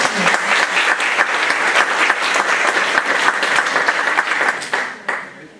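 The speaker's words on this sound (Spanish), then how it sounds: "Un aplauso" An audience at a religious gathering breaks into sustained, dense applause, many hands clapping together at steady volume for about five seconds before it thins and fades out.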